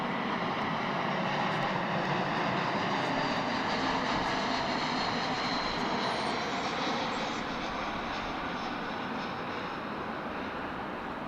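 A jet airliner arriving at Dallas Fort Worth International Airport on the flight from Oklahoma City gives a continuous broad engine roar that holds steady and then eases slightly toward the end.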